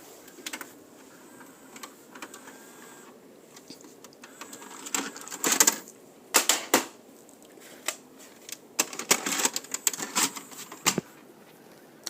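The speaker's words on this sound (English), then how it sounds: "so we can easily pop the tape in." A VHS tape is pushed into a VCR, with a series of plastic clicks, clunks and mechanical rattles of the loading mechanism, sharp and close against a quiet background, no talk.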